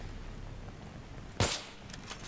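A single sharp gunshot cracks out in the video game Battlefield 3, one sudden close bang over quiet game ambience, followed by a faint softer pop.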